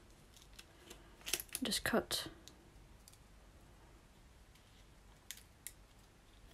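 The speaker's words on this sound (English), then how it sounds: "if it gets a bit too much, just get your scissors" Scissors trimming excess vinyl while layering an image, a short cluster of crisp snipping clicks up close, followed by a few faint scattered clicks under quiet talk.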